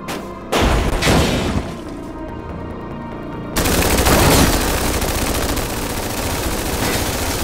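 Offshore bombardment in the Command & Conquer (2013) strategy video game: a dense, loud barrage of overlapping blasts and rapid gunfire-like bursts that swells midway and keeps going without a break.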